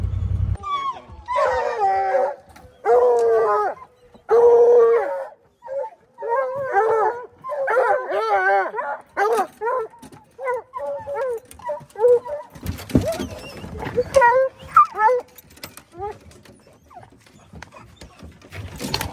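Several hunting dogs on a bear trail bark and howl in repeated bursts, some drawn-out bays mixed with sharp yips, at moderate distance outdoors.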